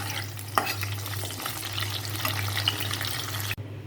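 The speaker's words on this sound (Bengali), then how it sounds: "আর কি একটু ভাজিয়ে নিই" Eggplant slices fry in a pan, a steady broadband sizzle with a low hum underneath and a brief clink near the start, close and continuous, cutting off abruptly near the end.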